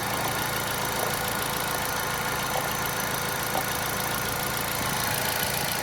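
A Kia Picanto engine, freshly fitted with a replacement alternator, is held at a raised speed. It gives a steady, even, mid-pitched hum with slight rattles, heard close up with no talking.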